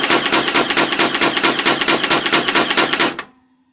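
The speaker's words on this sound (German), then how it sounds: "Oder man hält den Abzug gedrückt. Dann gibt es halt Dauerfeuer," An electric hydrogel ball minigun fires on full auto, a loud, close, rapid rattling burst of evenly spaced shots lasting about three seconds before cutting off abruptly.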